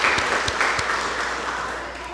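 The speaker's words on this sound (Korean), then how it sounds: "우리 한번 박수 한번 해드려요" A church congregation at a Korean Sunday service applauds together, a steady wash of clapping with a few sharp individual claps standing out, sustained and gradually easing.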